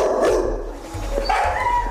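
A dog barks a few times at a rescue and rehoming centre for working dogs, short sharp barks with yips and a whimper against a busy kennel background.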